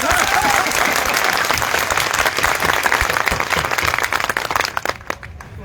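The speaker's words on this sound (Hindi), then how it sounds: "तालियों की गड़गड़ाहट से इनका सम्मान किया" A large crowd at an outdoor political rally in Lahar, Bhind, Madhya Pradesh breaks into loud, dense, sustained clapping that fills the space, then thins out abruptly near the end, leaving a few scattered claps.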